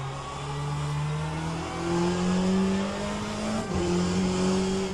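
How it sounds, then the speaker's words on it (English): A Porsche race car in the rFactor 2 racing game, viewed in VR, screams steadily as its engine revs climb through the gears, loud and close throughout with a brief shift dip near the end. "I want to hear that Porsche right next to me screaming."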